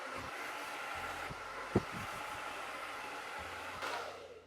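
A hair dryer blows steadily while a brush works through the hair in a blowout, a close continuous whooshing drone with a few brief knocks and shifts in airflow.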